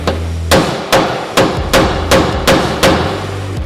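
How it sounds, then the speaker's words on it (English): A hammer strikes a punch to drive out a spinning frame rivet on a Toyota Tacoma, eight sharp, loud metallic blows at a steady rhythm. "Because this one's spinning, now we're gonna punch it out."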